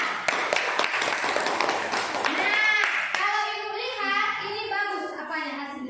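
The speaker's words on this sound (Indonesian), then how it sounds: "tepuk tangan untuk teman-teman kita" Classmates clap for their peers after a class presentation, scattered distinct claps at first, then children's voices chattering and calling out take over as the clapping thins.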